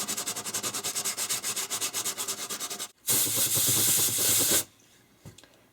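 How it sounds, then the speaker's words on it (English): Rhythmic back-and-forth light sanding strokes rasp steadily on a 12-string guitar's wood, then a longer continuous scrubbing pass, close and clear, before stopping. "So just a little light sanding, just to sort of take that down a little bit."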